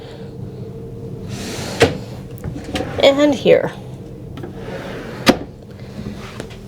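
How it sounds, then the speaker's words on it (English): Drawers in a cruise ship stateroom on the Utopia are opened and shut, giving a couple of sharp wooden knocks and a brief sliding rattle, while a person talks nearby. "Another drawer here."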